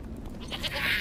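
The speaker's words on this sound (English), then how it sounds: "Oh, why the goat now, please?" A goat bleats in a fantasy drama scene with dragons, a short wavering cry that swells toward the end above a low rumbling background.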